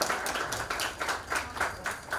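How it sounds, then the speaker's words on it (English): A crowd at a jewellery collection launch event gives a steady round of applause, dense overlapping claps filling the whole stretch at close range with no clear talking. "can you please give me a round of applause?"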